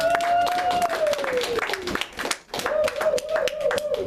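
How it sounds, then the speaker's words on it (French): A church congregation claps in praise of Jesus, quick rhythmic hand claps under a sustained sung or called-out voice that dips briefly midway before resuming. "On va acclamer encore le Seigneur Jésus."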